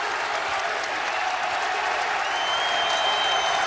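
A college basketball crowd at Belk Arena during a VCU at Davidson game roars and applauds in a dense, continuous wash of cheering that holds steady and swells slightly toward the end.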